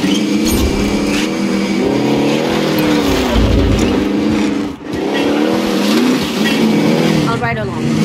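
Vehicle driving in the Call of Duty Warzone video game, a loud engine roar with revving and some tire noise, under people talking.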